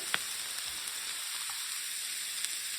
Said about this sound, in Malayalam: ഇത് നന്നായിട്ട് വഴറ്റി കൊടുക്കാം